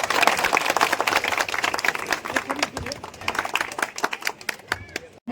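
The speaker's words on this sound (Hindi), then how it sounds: "माला बनाकर ताली बजाइए भाई।" Applause at a public welcome ceremony in Bihar, where a guest is being honoured with a garland: brisk, dense clapping from a crowd that thins into scattered claps and fades near the end, with voices mixed in.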